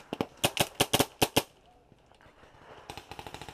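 Paintball markers fire in rapid bursts at a paintball field, a quick volley of sharp close pops followed by a pause and then a softer, faster string of shots.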